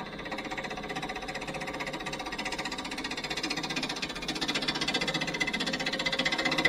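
A wood lathe turning a wooden snowman runs at roughly 657 RPM, a dense steady whirring rumble that grows gradually louder as it spins up, heard alone and close.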